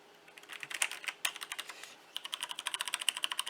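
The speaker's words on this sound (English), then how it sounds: "this is the Logitech" Close, rapid typing on a Logitech G613 wireless mechanical keyboard, a dense run of crisp clicking keystrokes in quick bursts with a brief pause midway, no voices over it.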